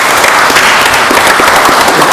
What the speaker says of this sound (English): I'd like to give them one more round of applause.